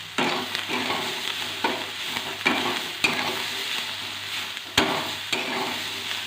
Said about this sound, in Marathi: आता ह्याच्यावर आपण कोथिंबीर घालूया थोडंसं परतून घेऊया